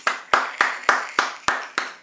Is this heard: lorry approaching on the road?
no